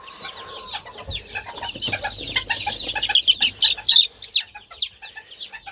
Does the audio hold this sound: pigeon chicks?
yes